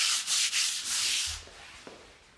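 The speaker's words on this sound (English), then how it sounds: "just give everything a light sanding with 320 grit" Light hand sanding with 320 grit on red oak hardwood floor finish: a few quick, close rasping strokes in a loose rhythm that fade to soft scuffs and a small tap.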